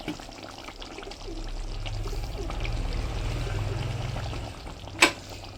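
Pre-fried eggs slide into a simmering coconut egg curry in a village kitchen, giving a steady close bubbling and sizzling wash that swells and settles over a few seconds, ending with a single sharp clink of a utensil.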